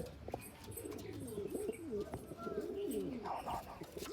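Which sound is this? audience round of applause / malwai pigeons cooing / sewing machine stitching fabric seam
malwai pigeons cooing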